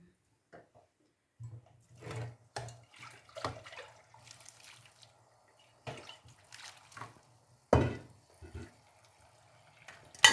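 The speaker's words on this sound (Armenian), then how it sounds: "Հիմա սրա ջուրը պետք է քամեմ։" Water draining from cooked white rice, with intermittent faint splashes and trickles between quiet gaps and a louder pour near the end.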